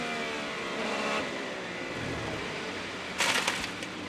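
An onboard IndyCar engine hums steadily while the car sits stuck at Road America, then a brief harsh burst of rasping noise flares up near the end.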